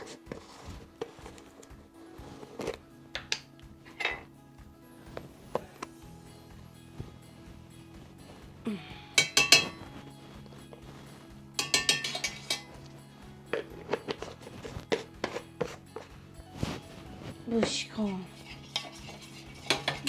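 Ragi flour being stirred into lukewarm water in a kitchen, with intermittent spoon clinks and scrapes against a pot or bowl over a low background hum, fairly quiet throughout.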